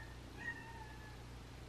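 A cat gives one faint, thin meow from a short distance, heard alone over a steady low room hum.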